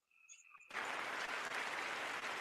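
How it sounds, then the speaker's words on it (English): After a brief high electronic tone, a small audience's applause starts abruptly and continues as steady, dense clapping to the end, closing out a show. "Sammy, can you clap us out?"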